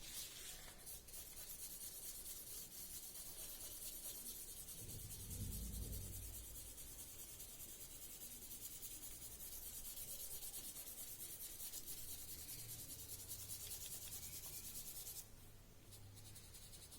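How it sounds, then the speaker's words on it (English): Charcoal shading on paper is rubbed and smudged, a faint, continuous dry scratching and brushing close by for over fifteen seconds, with a slightly louder scrub near the middle and no speech. "you can use this eraser and you can smudge it."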